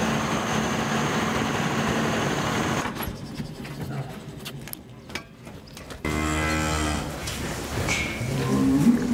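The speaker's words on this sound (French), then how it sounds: "les vaches, elles pâturent le plus possible." Cows graze on pasture, with low mooing and livestock sounds against a noisy outdoor background that comes and goes, plus a low engine-like rumble in places.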